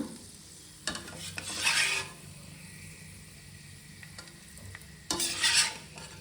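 Fried peanuts tipped from a hot pan onto cooked rice for vangibath and stirred through, giving two short bursts of scraping and rustling separated by a quiet stretch, close by with no talk.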